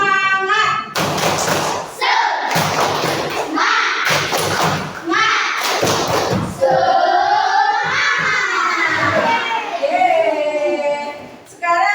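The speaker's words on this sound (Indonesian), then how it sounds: "tepuk semangat dulu, siap?" A primary school class does the tepuk semangat chant, several loud bursts of group clapping in a rhythmic pattern, with children's voices chanting together between and after the claps.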